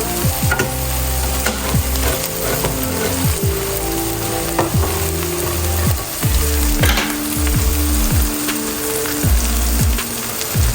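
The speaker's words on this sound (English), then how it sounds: "now I'm gonna go ahead and add in my coconut milk as soon as I open it" Coconut milk hits a hot frying pan of saltfish and tinned mackerel for a Jamaican rundown, giving a loud, steady sizzle with crackling bursts and occasional stirring scrapes throughout.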